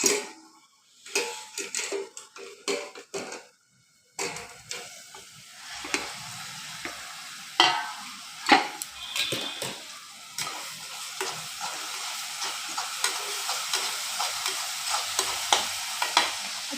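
Chicken cooks with onions in a pan, sizzling steadily as a spoon stirs and scrapes in irregular bursts, close and clear with no talking.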